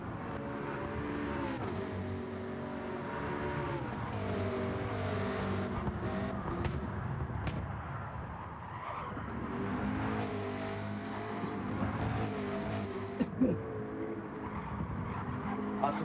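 Race cars in a sim racing video game roar with rising and falling engine pitch through gear shifts, several cars close together, with a commentator's voice running underneath.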